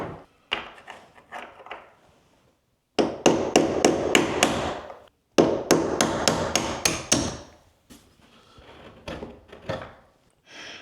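A nail set is struck with sharp hammer taps to drive out a door hinge pin, in clustered bursts of rapid metallic knocks separated by short pauses, close and loud.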